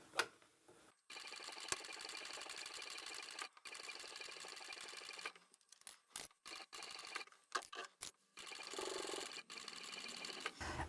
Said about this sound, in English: And I'll sew just over that fold and back stitch